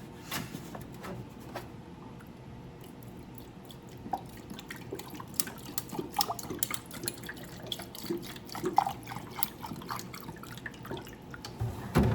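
Water dripping from a big leaking water jug outdoors, a steady scatter of small drips and taps running throughout at low to moderate level.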